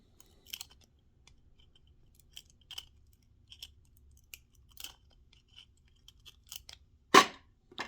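Sparse snips and clicks of pliers trimming wire mesh for model car windows, scattered quiet cuts with one sharper, louder snap near the end and no talking.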